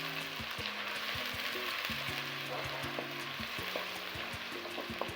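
Onions sizzle steadily as they fry in hot oil in a pan, with repeated scraping strokes of stirring cutting through the constant crackle, close and fairly loud.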